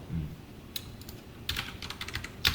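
Code being typed on a computer keyboard, with quiet clusters of key clicks in short irregular bursts and a louder tap near the end, faint and close with no talking.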